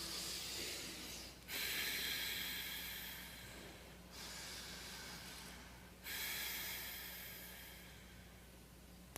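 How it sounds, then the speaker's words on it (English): A person draws in and lets out slow, deep breaths close to the microphone, long airy hissing passes separated by brief pauses, over a low steady hum. "Just do one breath and see it is noticeable."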